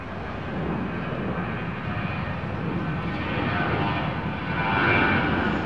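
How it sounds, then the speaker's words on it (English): A Cargolux cargo jet taxiing at Chicago O'Hare airport gives a steady, fairly loud engine roar and whine that swells slightly near the end, with no talk over it. "That Cargolux jet is probably going to taxi all the way through via the terminal buildings"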